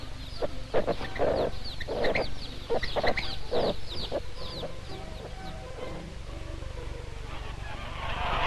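A mother hen clucks in a farmyard in a series of short, close calls during the first half, then quieter, with other fowl faintly around and no talking.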